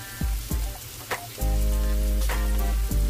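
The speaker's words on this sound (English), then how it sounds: "Pag medyo namula-mula na yung shrimp, lagyan naman natin yung ating crab paste." Shrimp and crab paste sizzling in a hot pan, a steady loud fry after a few stirring clatters, with no talking.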